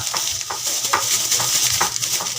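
Udong vegetables sautéing in oil and soy sauce in a pan, with a steady close sizzle and brief stirring scrapes running throughout, no voices.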